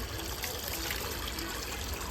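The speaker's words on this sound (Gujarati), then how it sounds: "ચાલુ નળ નીચે મેં ટોપને મૂકી દીધો છે" Tap water runs steadily into a pot of sliced potatoes being washed for chips, a constant soft rushing flow without breaks, fairly faint.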